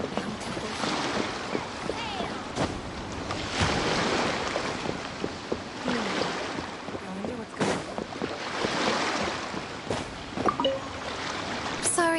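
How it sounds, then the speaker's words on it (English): Calm ocean waves wash steadily in a video game seaside scene, a continuous soft surf with wind noise and occasional splashes, while a voice speaks over it. "The waves are as calm as always."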